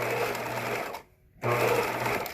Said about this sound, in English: I'm sewing right at the folding area on my bias tape.